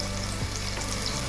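Spices and chili powder frying in a pan for broccoli pulao, a close, steady sizzle with light stirring scrapes and no voices.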